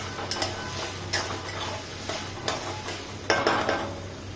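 Cabbage and peas masala is sautéed in a pan, a spoon scraping and stirring in regular strokes over a faint, steady sizzle, with no one talking.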